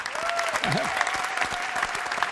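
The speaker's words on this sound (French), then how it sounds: "applaudissez pour les jeunes soldats là" Audience applause at a live comedy show in honour of young soldiers fighting at the front, steady and moderately distant, with a performer's voice sounding over it.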